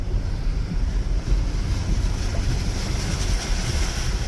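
Stormy wind with rain lashing a mountain sheep farm: a steady, loud roar of gusts and rushing water that stays broad and unbroken throughout, with no voices.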